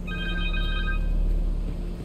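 A phone rings in Spider-Man 2 gameplay: a bright, pulsing electronic ring for about a second, then only the low background drone of the game remains.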